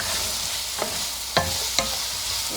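Chicken fajita filling sizzling in a hot pan, a continuous loud fry with three or four sharp scrapes and knocks of a utensil stirring, no voices.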